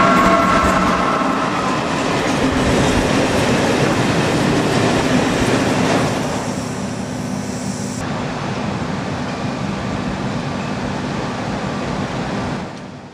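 A heavy 1,000-tonne freight train hauled by class 251 locomotives climbs the Pajares mountain pass, a loud continuous rumble and clatter of wagons, close by, easing slightly partway through.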